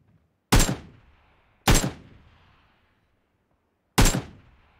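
Three loud, isolated gunshots in a video game, each a sharp crack with a quick decaying tail, separated by a second or two of near silence.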